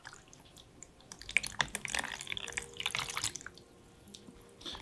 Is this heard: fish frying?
no